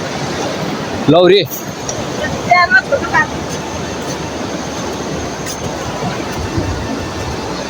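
The Seti river in Nepal, swollen after two to three days of continuous rain, rushes as a steady, loud broadband roar throughout, with a brief spoken word and a few short voice sounds breaking in near the start.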